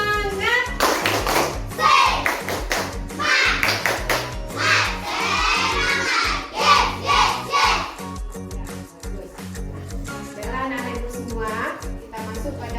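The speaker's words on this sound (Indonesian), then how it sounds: "Tepuk semangat dulu." An Indonesian elementary class performs a rhythmic spirit clap, patterned bursts of hand claps in time with children chanting and shouting along, pausing and restarting across the stretch.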